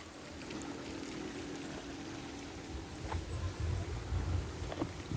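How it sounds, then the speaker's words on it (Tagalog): Water from a spring flows steadily along a shallow stream, a constant close rushing and gurgling that swells a little louder toward the end, with no voices. "Flowing talaga ang tubig."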